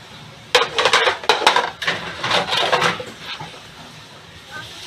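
Dishes, pots and utensils being washed make a run of sharp clinks and clatters, with ceramic and metal knocking together in quick bursts up close. The clatter tails off into quieter handling, and a voice talks in places.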